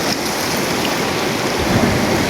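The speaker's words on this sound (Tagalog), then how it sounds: "Yan ang tubig na galing sa bundok. Yan. Lumaragas." Rushing floodwater from the mountain pours down a river after a heavy storm, a loud continuous roar of churning water with wind buffeting the microphone.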